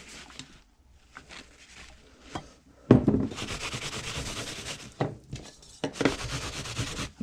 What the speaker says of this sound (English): we're going to be rubbing this thing down with some linseed oil